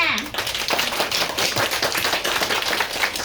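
Audience at a graduation show claps and applauds on request, a steady burst of many hands clapping fairly close, following a short voice at the start and continuing evenly throughout.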